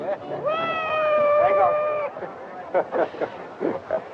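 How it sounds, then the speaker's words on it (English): A cat meows with rising and falling tones in a busy Old West frontier town setting, carrying over lively background chatter and voices for about two seconds before the talk continues. "Kurt, think I'll get me one of them cats"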